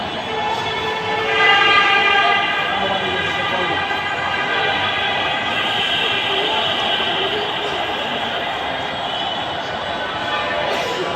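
A metro train approaches a station with a loud, steady tonal whine and rumble that holds throughout, close by and dominating the scene.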